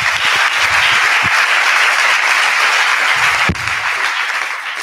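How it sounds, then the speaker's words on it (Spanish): An audience applauds a team and its coaching staff, a dense burst of clapping that stays full and loud throughout and eases slightly toward the end. "Un aplauso para ellos"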